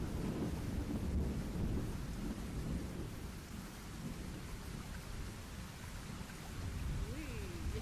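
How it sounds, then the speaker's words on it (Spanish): Steady rain pours down with low rumbling thunder rolling underneath, a dense, constant storm sound heard at moderate distance. "Ahí tienen el trueno."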